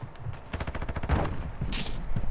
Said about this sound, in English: this guy just one shots me with a shotgun